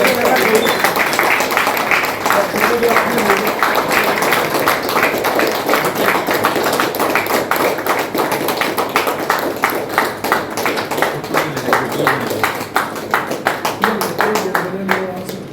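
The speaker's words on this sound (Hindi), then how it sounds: "तो और कोई साथी जोरदार ताली से स्वागत करेंगे।" Sustained, loud group applause from an audience welcoming and honouring a BEEO official at a programme in Musaboni, dense hand claps filling the whole stretch with voices mixed in underneath.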